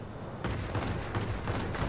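The 37mm cannon of a MiG-15bis fighter firing in the World of Warplanes flight game, a loud, dense stream of rapid booming shots over constant engine roar.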